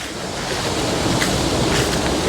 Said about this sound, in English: I hear a waterfall there.